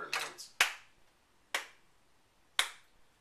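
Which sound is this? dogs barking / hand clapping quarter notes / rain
hand clapping quarter notes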